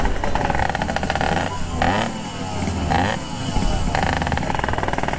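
A Yamaha RX-King motorcycle engine revs loudly nearby, its rough rattling idle broken by several sharp throttle blips that rise and fall in quick bursts.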